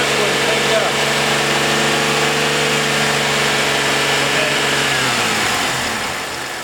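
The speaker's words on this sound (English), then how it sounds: "So we're going to rev the engine a little bit." A car engine rumbles steadily, then its pitch rises and falls as it is revved briefly, heard up close.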